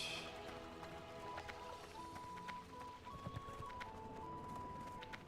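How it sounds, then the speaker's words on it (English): An armored horse mount in World of Warcraft, its hooves clip-clopping in a steady quiet rhythm beneath faint game music tones and ambient town sounds. "That's actually the whole, that's the Paladin's mount right there."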